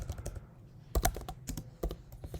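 Close, crisp typing on a computer keyboard while Python code is written, a run of quick keystrokes broken by a couple of heavier, louder key presses such as Enter.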